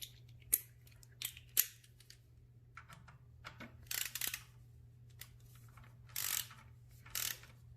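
A ratchet tightens the front bolt of an adjustable kickstand on a Suzuki GSX-S1000 motorcycle, giving a few sharp clicks and short bursts of pawl clatter separated by pauses over a steady low hum.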